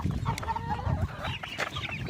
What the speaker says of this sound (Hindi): उसमें भी बहुत सारे मुर्गियाँ हैं